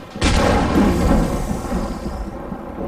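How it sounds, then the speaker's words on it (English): A single heavy boom, used as a sound effect for two bodies colliding in an audiobook, hits sharply and then rumbles away over about two seconds with no voice. "two light bodies collided with such explosion that it sent Pete flying"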